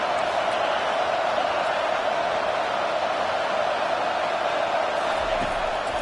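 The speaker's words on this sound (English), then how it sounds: "Man, this crowd really affecting the football." Crowd noise from a college football video game, a steady broad roar of a stadium crowd holding at an even level throughout, with no clear cheers or distinct voices rising above it.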